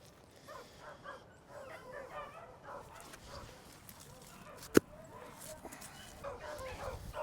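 Dogs bark and yip intermittently at moderate distance in an open pasture, with a sharp single knock or thump partway through.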